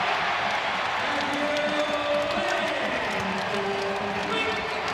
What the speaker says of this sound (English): Crowd went crazy